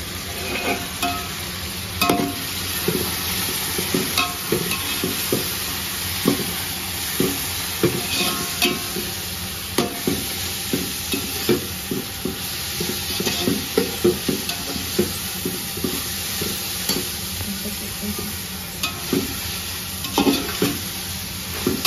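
Fresh coriander and mint leaves go into a pot of frying onions for Hyderabadi chicken dum biryani, giving a steady close sizzle with repeated stirring scrapes and clinks throughout, no talk.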